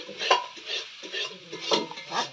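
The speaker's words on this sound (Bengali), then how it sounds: "এই যে এখানে কপি, পাতা কপি, তো এটা এখন ভেজে নেবে।" Shredded cabbage being stirred as it fries in a pan, several brief scraping strokes of a utensil over a soft, close sizzle.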